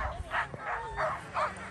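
Sled dogs at the Iditarod race on the Yentna River give a few short, eager yips and barks in quick succession, fairly close, over faint outdoor background.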